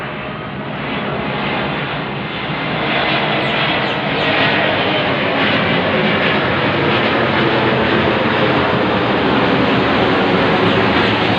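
A plane passes over a street in the early morning, a steady loud broadband roar of jet engine that swells slightly and holds throughout, with no talk.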